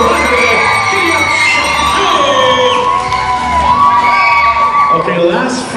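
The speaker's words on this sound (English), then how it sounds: "Round of applause, ladies and gentlemen." Audience at a live Alberta history quiz show cheers and shouts loudly and continuously, with whoops and voices rising over a dense, sustained crowd roar throughout.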